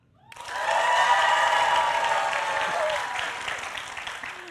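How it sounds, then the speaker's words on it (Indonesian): Supporters of the Pramono Anung–Rano Karno ticket applaud at a Jakarta gubernatorial debate, a dense burst of crowd clapping that swells quickly and holds steady, with a few scattered cheers mixed in. "tepuk tangan dulu."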